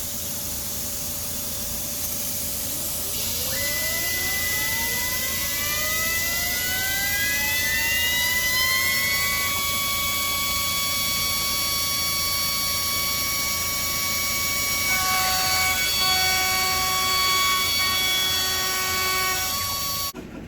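An OMIO CNC machine's spindle lifts and spins up at cycle start, a steady loud whine with tones rising in pitch over a constant hum, then holding at speed.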